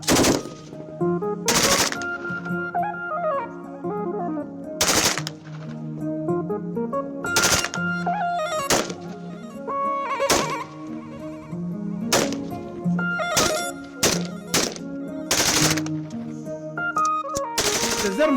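KCR 556 and KMR 762 rifles fire during a military weapons demonstration in Koulikoro, Mali: loud, sharp bursts and single shots repeat at irregular intervals over continuous background music.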